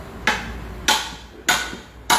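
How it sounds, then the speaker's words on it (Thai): A hammer strikes a chisel to force a tire off a wheel rim, four sharp metallic blows at an even, unhurried rhythm, loud and close with no voices. "อันนี้เขาเรียกว่าใช้ สกัดกับค้อนนะครับ"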